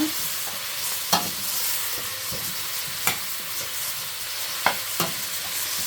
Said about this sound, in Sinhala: හොඳට මේක මික්ස් කරගන්න ඕන